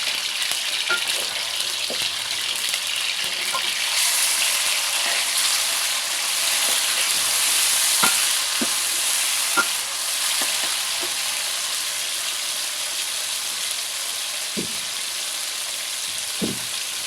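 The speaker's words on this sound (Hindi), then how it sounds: "तो इस चिकन को हम अच्छी तरह से फ्राई करेंगे पहले।" Chicken fries in a pan for a karela sabzi, giving a continuous close hiss of sizzling oil broken by scattered clicks and scrapes as it is stirred.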